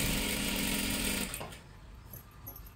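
Sewing machine stitching a salwar runs steadily and loudly for just over a second, then stops, leaving only faint room noise.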